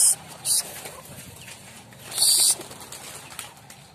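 Racing pigeons returning from an 80-kilometre training flight, heard as close bursts of wing flapping with a possible faint coo between them.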